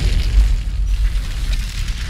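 A deep, rumbling missile explosion from a Captain America film roars with heavy low boom and crackling debris, loud and sustained throughout.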